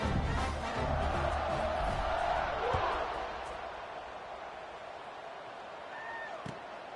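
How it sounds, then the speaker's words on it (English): A college football stadium crowd buzzes and roars after a score, a broad sustained wash of cheering that fades gradually into a lower murmur, heard from a distance with a few faint whistles. "this crowd is buzzing after that last score"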